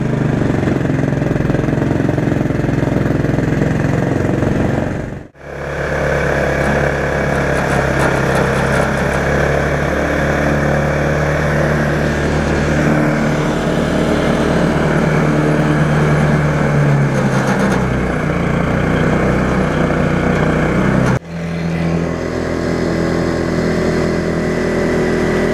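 Tractor powered by an 11hp Honda engine running steadily in sixth gear, a loud, continuous close-up drone with a low throbbing tone, dipping sharply twice before resuming.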